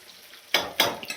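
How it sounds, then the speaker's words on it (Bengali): Hilsa fish fries in a pan: after a quiet moment, two loud bursts of spitting sizzle come close together, with a light clink of utensils at the end. "এদিকে আমার মাছ ভাজা হচ্ছে।"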